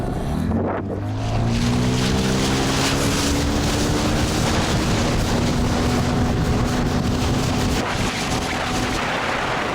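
An outboard motor revs up and holds a steady high drone as a boat speeds across water, with wind and splashing throughout.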